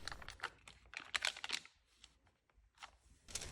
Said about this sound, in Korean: 준비한 버터의 포장을 까주세요